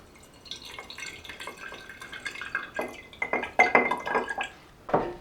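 Fresh water trickles and drips into a glass propagation jar holding fiddle leaf fig cuttings, a run of light splashes and clinks that grows louder toward the end, with no talk.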